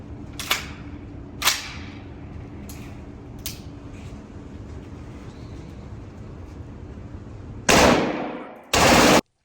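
A suppressed SIG Sauer MCX Spear rifle chambered in 277 SIG Fury, with a 13-inch barrel, fires a couple of sharp single cracks and fainter distant shots, then two loud, close full-auto bursts near the end.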